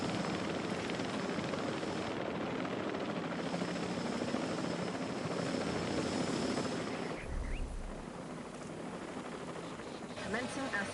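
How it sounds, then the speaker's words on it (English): Several helicopters flying in the video game Jurassic World Evolution 3, a continuous rotor drone that holds steady and then drops away partway through, with game ambience behind it. "Good grief, that's a lot of helicopters."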